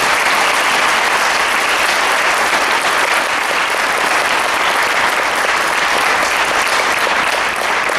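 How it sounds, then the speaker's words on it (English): Sustained, loud audience applause at a school awards night, dense clapping from a large crowd honouring four award recipients, steady throughout with no pauses. "Can we have a round of applause for these 4 ladies?"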